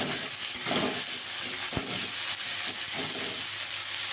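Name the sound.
onion, garlic and green chili frying in a pan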